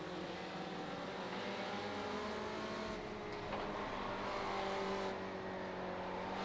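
Spec Racer Ford race cars at New Jersey Motorsports Park Thunderbolt in a sim racing game, a steady loud engine drone with rising and falling revs and shifting pitch, close and continuous with no talk.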